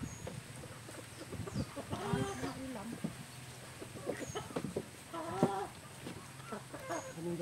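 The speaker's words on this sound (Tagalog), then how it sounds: "Kawawa yung manok." A chicken clucks in short, scattered calls on a rural farm, fairly close but not loud, mixed in with people talking in the background.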